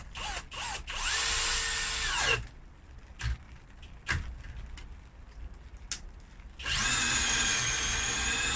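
A cordless power drill whines in long bursts, drilling into an oak door, starting and stopping several times, with sharp knocks and handling clatter in the pauses between runs.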